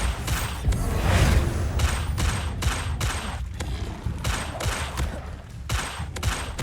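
Bombarda explosion spells go off in the Hogwarts Legacy video game as a dense string of booming blasts and crackling bursts. It keeps going as a loud, close barrage full of rapid transient hits.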